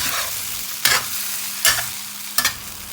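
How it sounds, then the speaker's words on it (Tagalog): Tomatoes and scrambled egg stir-frying over high heat for a Chinese tomato egg dish: a steady, loud sizzle broken by three evenly spaced spatula scrapes and tosses. "continue to stir fry over the high heat until the sauce is thickened"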